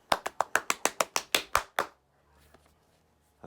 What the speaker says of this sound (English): clap as hard as possible